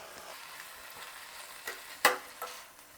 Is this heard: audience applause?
no